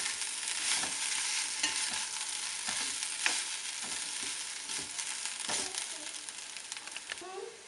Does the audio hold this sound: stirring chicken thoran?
yes